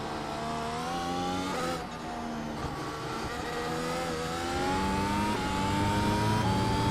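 A 2022 Mercedes-AMG F1 W13 engine screams close and loud at high revs, its pitch rising and falling as the throttle is worked, with a brief dip near two seconds before climbing again.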